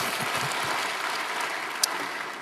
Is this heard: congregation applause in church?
yes